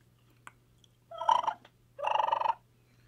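Turkey gobble imitated on a mouth call with tongue flutter, two rapid rattling bursts close and loud, the second longer, with no talking.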